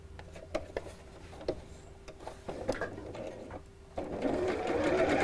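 Close up, a sewing machine stitches long apron pieces together, with soft ticking clicks at first and then a steadier faint motor whir toward the end.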